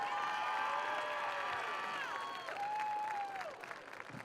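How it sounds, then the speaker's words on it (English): Crowd applause and cheering at a high school football game's homecoming ceremony honoring the homecoming king and queen, a loud, sustained roar of clapping with whistles and shouts throughout. "Let's all have a big round of applause for Elorm Nevis and Tanaya Jenkins."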